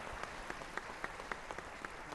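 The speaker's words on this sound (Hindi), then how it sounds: "तालियों से अभिवादन करते हुए माननीय प्रधानमंत्री श्री नरेंद्र मोदी" Steady, moderately distant applause from an audience in a formal hall welcoming the Prime Minister, with a few sharper individual claps standing out over the continuous wash.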